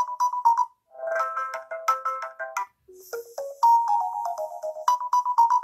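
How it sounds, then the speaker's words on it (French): A Doogee X70 smartphone plays its ringtone, a bright melodic tune of short repeated note phrases with brief pauses, loud and close with no voices. "Alors là, sonnerie."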